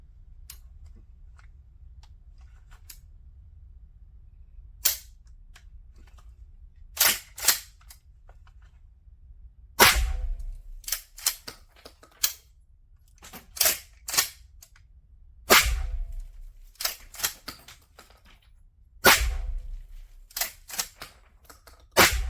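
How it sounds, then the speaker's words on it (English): A Norinco 1897 pump shotgun firing 12 gauge slugs at an outdoor range: sharp, loud single reports spaced a few seconds apart, some in quick pairs, with clacking pump-action strokes between shots and no talking. "So we are now at the range with the Norinco 1897, and yeah, let's take some first shots."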